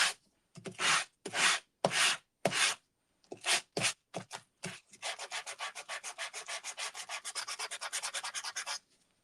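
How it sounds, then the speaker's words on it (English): A sanding block rubbed over two-toned cardstock, first in several separate scrubbing strokes, then in fast, even back-and-forth strokes, close up and dry-sounding, with no talking. "go over it again with our sanding block anyway."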